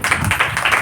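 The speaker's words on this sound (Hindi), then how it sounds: "ताली बजा देते" Short burst of congregation clapping during a church sermon, a few quick claps close together lasting under a second.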